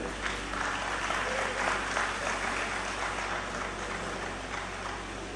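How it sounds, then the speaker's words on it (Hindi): Sustained, dense applause from an audience at an Arya Samaj gathering welcoming a speaker, a steady wash of many hands clapping at even loudness throughout. "कृपया तालियों से उनका अभिनंदन करें"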